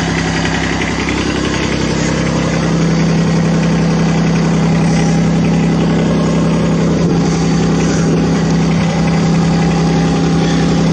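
A very small ride-on digger's engine runs steadily, a loud, close, continuous idle with a strong low hum and constant vibration, with no talking over it.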